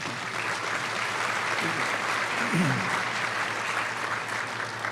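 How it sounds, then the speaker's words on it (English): Luncheon guests applaud Tom and Ellen Harris with sustained, even clapping from a large room, a dense wash of many hands lasting about five seconds, with a faint voice briefly underneath. "a round of applause for Tom and Ellen Harris"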